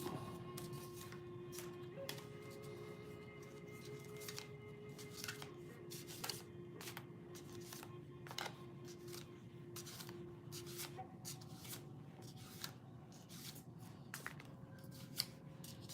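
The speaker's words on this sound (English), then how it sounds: "We've shuffled through the deck twice now." A deck of playing cards being shuffled at a table, with repeated soft riffling and flicking bursts spread through the clip under a steady low background hum and faint tones.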